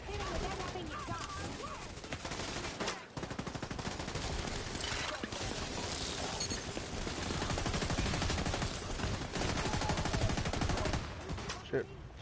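Dense, continuous gunfire from a PS5 session of the video game The Division 2, steady bursts filling the whole stretch with a brief lull near three seconds and a sharp burst near the end.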